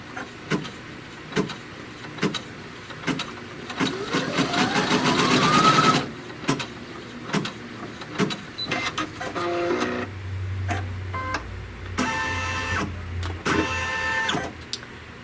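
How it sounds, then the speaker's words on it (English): Sewing machine stitching the trim line on a fabric quilt piece, a fast run of rapid needle strokes that speeds up then stops, followed by shorter mechanical bursts and clicks, close and alone. "it's going to stitch the trim line for this piece"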